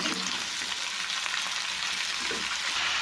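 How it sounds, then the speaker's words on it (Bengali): Salt and half a spoon of turmeric powder fry in hot oil, producing an even, continuous close sizzle with faint stirring and no speech. "সাথে দিয়ে দিচ্ছি একটু স্বাদ অনুসার লবণ, যতটা দরকার পরিমাণ মতো, আর হাফ চামচ হলুদ গুঁড়ো দিয়ে একটু ভাজা করে নেব।"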